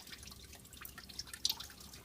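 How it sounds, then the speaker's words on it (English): Engine oil draining from a Cadillac DeVille's 4.6 L Northstar engine, heard as a faint, irregular dripping trickle with no other sound. "while this is draining the rest of the way"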